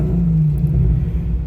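A Jeep Grand Cherokee 4.0 engine with no catalytic converter idles around 900 rpm in a garage, a steady, loud, low rumble running alone and close.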